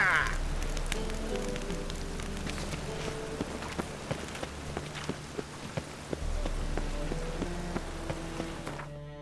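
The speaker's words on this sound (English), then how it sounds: "Looks like rain." Steady rain falls in The Witcher 3, a soft hiss of drops on surfaces with scattered sharper patters, faint and even throughout, beneath a low musical drone.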